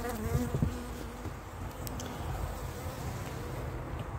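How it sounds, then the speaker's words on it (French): A steady, dense hum of many honeybees buzzing together close by in a winter cluster, continuous and even, with a few brief low knocks near the start. "ça fait déjà une belle boule d'abeille"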